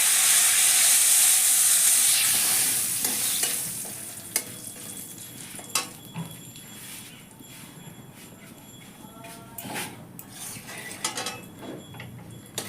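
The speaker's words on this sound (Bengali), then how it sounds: "এবার এই তেলের মধ্যে আমি কিছু ফোড়ন দেব। দেখো, গোটা গরম মশলা দিলাম, এবার দেব তেজপাতা" Whole garam masala and bay leaves crackling in hot oil for a chicken curry, a loud bright sizzle at first that settles into quieter spitting with scattered utensil clicks and pan knocks.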